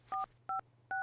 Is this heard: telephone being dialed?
yes